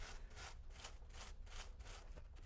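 A brush scrubs a bicycle chain during degreasing of an SRAM or Shimano drivetrain, giving a rhythmic back-and-forth scratchy rubbing, about eight strokes, close and fairly quiet.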